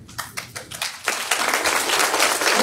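An audience at a university lecture breaks into applause for the lecturer, beginning with a few scattered claps and swelling into steady, fuller clapping that continues to the end.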